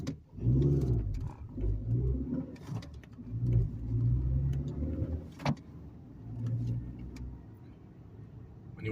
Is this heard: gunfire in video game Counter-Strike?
no